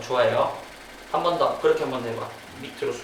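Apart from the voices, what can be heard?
None of the usual background noises is heard.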